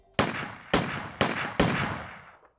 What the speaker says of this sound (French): Quatre coups de feu claquent.